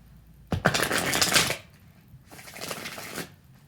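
A deck of cards is riffled twice, a crisp ripping flutter about a second long, followed by a softer second shuffle, with no voices.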